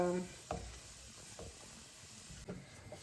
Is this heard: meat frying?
yes